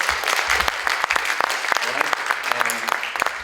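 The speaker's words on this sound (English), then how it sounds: "Give them a round of applause" Loud applause rises from a school concert audience, with sharp individual claps standing out close by and a few voices and cheers mixed into the crowd noise.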